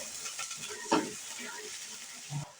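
Ginger-garlic paste fries in oil with a little added water while a spoon stirs the pan, a soft sizzle running underneath with a couple of sharper scraping stirs, fairly quiet and close.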